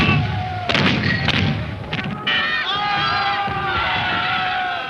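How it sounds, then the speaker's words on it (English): A cannon fires three-pound cast iron round shot at the Battle of Culloden in 1746: heavy, sharp booms and thuds burst out over a loud, continuous crowd of shouting and cheering men. "Cast iron ball of 3 pounds weight, fired from open sights. This is round shot."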